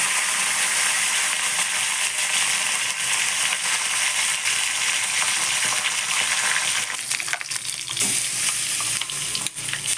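Mustard and cumin seeds crackle and splutter in hot oil in a pan for an eggplant chutney, a dense, continuous loud sizzle with sharp popping that thins a little toward the end.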